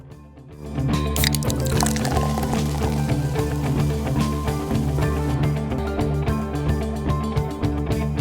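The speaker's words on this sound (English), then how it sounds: "One grape soda drip coming up." In the adventure game Supreme League of Patriots, grape soda pours and drips in a continuous liquid stream with wet splashes, steady and close over background music.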